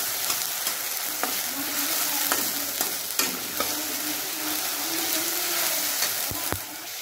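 Onion and chilli paste fry in a pan for Punjabi rajma, a close, even sizzle with intermittent scraping stirs and a couple of sharp utensil taps near the end, no speech.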